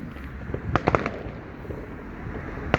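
Fireworks burst outdoors in a quick cluster of sharp cracks and pops, then one more loud bang near the end, over a steady background rumble.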